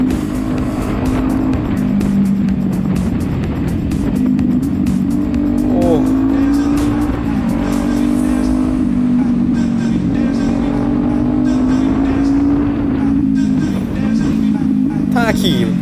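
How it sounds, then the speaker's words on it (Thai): Loud exhaust of a Kawasaki ZX-10R motorcycle heard from a following vehicle in busy traffic, a constant deep drone that rises and falls in pitch as the engine revs, with traffic noise around and someone talking over it. "ดูเสียงท่อฮะ"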